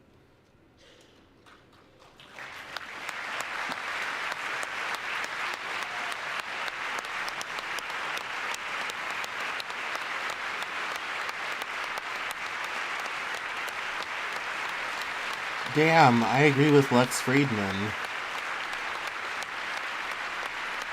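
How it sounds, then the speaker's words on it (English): Sustained applause from members of Congress during a presidential address, a dense steady clatter of clapping that fills most of the clip, with a brief spoken voice rising over it near the end. "half of Congress is clapping and half not"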